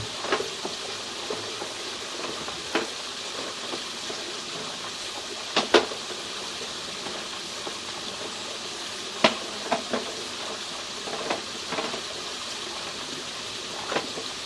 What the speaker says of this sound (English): we did get some water running here. And we just stuck a hose in the back of the clean out